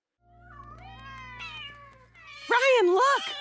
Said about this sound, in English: dealing with the troublesome cats